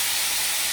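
A short burst of constant sizzling hiss comes from shawarma meat frying in a hot pan, close and even, with no talking.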